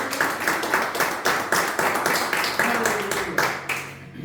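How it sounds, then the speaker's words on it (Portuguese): Congregation at a Sunday family church service clapping in a steady, rhythmic beat, with a voice speaking over the claps. "Aplaude o Senhor Jesus, aleluia."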